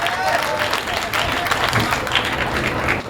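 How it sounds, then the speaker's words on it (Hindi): An audience at a comedy show claps loudly and continuously, a dense steady burst of applause with crowd noise blended in. "जोरदार ताली बजाइए।"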